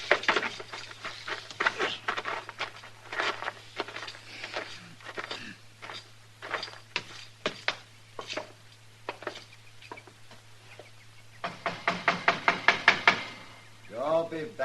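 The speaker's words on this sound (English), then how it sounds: "Don't be banging on the door." Knocks on a wooden door at a frontier dwelling, several scattered raps followed by a fast, loud burst of knocking near the end, with footsteps and a voice close by.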